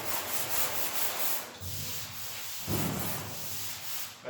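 Hand sanding block rubbed over wood to finish it, a continuous close gritty swishing of even strokes, fairly quiet and uninterrupted.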